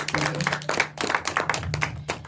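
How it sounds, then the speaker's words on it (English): Audience clapping at a live creator conversation event, scattered and uneven claps of modest size, fairly close, with a faint low hum underneath. "So just a round of applause for all of you for being here with us"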